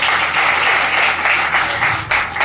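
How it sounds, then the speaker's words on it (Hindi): Applause from an audience at a teacher-honouring ceremony in Muzaffarnagar, a steady, dense patter of many hands clapping that carries through without a break and swells slightly near the end. "इनके लिए एक बार जोरदार तालियां।"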